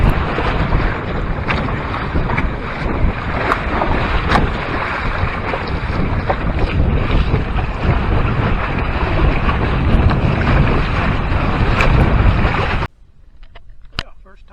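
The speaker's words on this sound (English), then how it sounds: "Good wind here." Strong wind buffets the microphone aboard a trimaran sailing on Lake Erie, a loud continuous rush with water noise beneath that stops abruptly near the end, leaving faint sounds.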